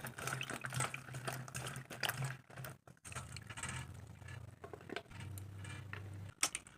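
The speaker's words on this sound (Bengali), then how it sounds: "এখন আমি জল দিয়ে ধুয়ে নেব।" Freshly cut young flat beans are washed with water, a steady close splashing and trickling that runs throughout over a constant low hum.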